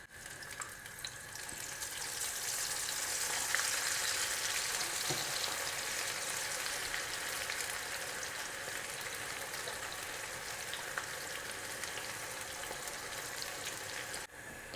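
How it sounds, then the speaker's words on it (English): Onions deep frying in a batch in hot sunflower oil, giving a steady dense crackling hiss that holds evenly throughout at moderate level, with no voices. "So I've just got some sunflower oil in here to deep fry these onions."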